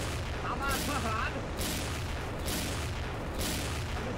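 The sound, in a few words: gunfire in the XSHOT video game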